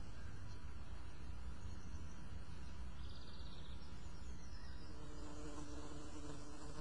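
Faint, steady buzzing of bees among flowers drones in the background, with a few soft bird chirps scattered through it.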